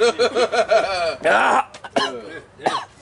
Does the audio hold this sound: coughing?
yes